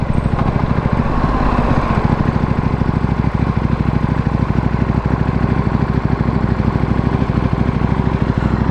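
A KTM motorcycle engine runs steadily below 3,000 rpm, a loud, continuous low throbbing with a rapid regular pulse and rough, lumpy character throughout, no talking over it.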